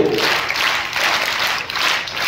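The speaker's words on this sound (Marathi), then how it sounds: "या सर्व विद्यार्थ्यांचं आपण जोरदार टाळ्या वाजवून कौतुक केलं पाहिजे।" An audience at a school event applauds the fifth-grade scholarship students, producing steady, loud, dense clapping that fills the whole stretch without pause.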